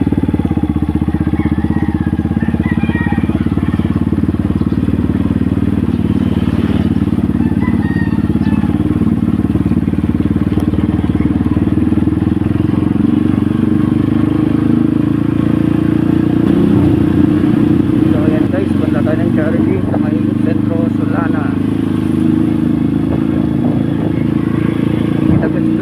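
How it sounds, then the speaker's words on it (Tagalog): A motorcycle ridden slowly on a charity ride, its steady mid-pitched engine drone continuous and close throughout, with a voice talking over it. "kasi principal itong motor na gamit natin ngayon. Kaya yan, sobrang bagal kong patakbo dyan"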